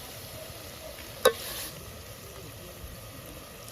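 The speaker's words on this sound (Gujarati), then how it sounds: "આ બે વસ્તુ થોડી વાર માટે તળવા દઈશું તેલમાં" Turmeric and asafoetida fry in hot oil for dal puri, giving a faint, steady sizzle with a single sharp utensil clink partway through.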